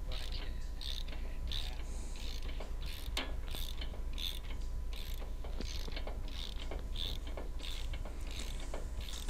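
Ratcheting socket wrench with a 17 mm socket loosening the M10 bolt that holds a shock absorber to the suspension arm of a trailer, off the workbench; repeated dry clicking ratchet strokes, close and fairly faint, with no talking.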